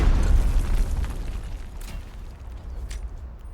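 A rocket launcher blast in the Delta Force shooter game, a deep booming explosion that rumbles loudly at first and then decays into a lingering low roar.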